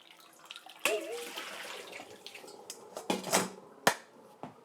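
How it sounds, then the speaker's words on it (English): Noodles being strained from their cooking water in a kitchen, giving a burst of splashing and pouring water with a few sharp clatters of the strainer or pot; close and fairly loud, with no talking. "So now I'm just going to strain the noodles from that water"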